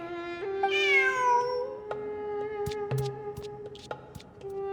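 A cat in Genshin Impact meows clearly and loudly, one drawn-out rising call followed by small clicks and chirpy sounds against a faint steady tone.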